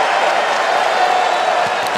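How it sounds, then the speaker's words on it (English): A tennis crowd cheers at the US Open, a broad, continuous roar of voices that stays loud and even for the whole moment, with no single voice standing out. "Greeted with a fairly loud cheer."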